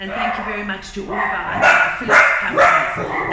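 Dogs barking indoors, several short sharp barks and yips breaking out repeatedly, loud and close, over and between a person talking.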